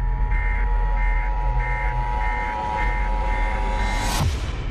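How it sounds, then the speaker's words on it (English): An emergency broadcast alert tone from a movie trailer sounds as a series of regular electronic beeps over a low rumbling drone, ending in a sharp rising sweep and impact. "This is an emergency broadcast transmission."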